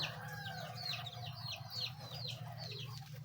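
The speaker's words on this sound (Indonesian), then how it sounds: "Tuh sobat, ayamnya keluar halaman." Chickens in a rural yard near their coop give repeated clucks and short chirping calls over a steady low background hum, moderately close, with no talk.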